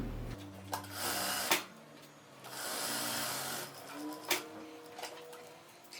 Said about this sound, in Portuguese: aqui na máquina, então eu vou passar agora uma costura aqui para poder segurar